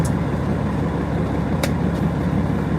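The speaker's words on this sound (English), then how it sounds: "The truck's just idling right now." A truck engine idles in a low, steady rumble close by, with a brief higher click partway through and no talking.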